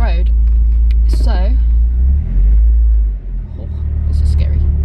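A Nissan S15 driven on a public road gives a steady low engine rumble and road drone throughout, with a person talking over it at close range.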